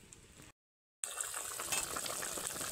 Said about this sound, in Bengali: ঝোলটা ভালোভাবে ফুটে গেছে।